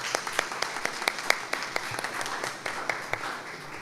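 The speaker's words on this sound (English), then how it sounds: "Please help me to applaud them." An audience at a youth development graduation ceremony applauds with scattered, moderately distant clapping that holds steady for a few seconds.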